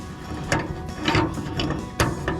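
A rivet machine tightens a rivet on the sickle bar blade of a New Holland 485 haybine, giving a few sharp ratcheting clicks over a steady mechanical hum, close and moderately loud.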